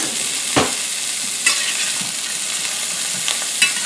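Large sausages searing in a pan give a steady loud sizzle close by, broken by a few sharp spits and crackles as fat pops, with no talk.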